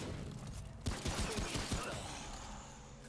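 Gunfire in the Remnant video game as dogs are shot, a quick cluster of sharp, moderately loud shots in uneven rhythm, followed by a lingering game ambience.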